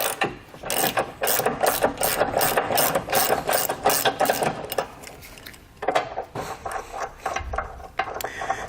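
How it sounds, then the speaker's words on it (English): Socket wrench ratcheting on the bolts of a tow bar adapter, a busy run of quick mechanical clicks and metallic rasps that pause briefly and then resume close up, with no talking. "We'll use a 19mm socket and wrench to remove this."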